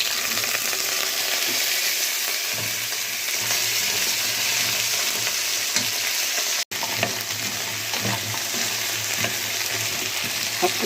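Garlic frying with tomato sauce in a pan, a steady close sizzle and crackle broken by occasional stirring, continuous throughout.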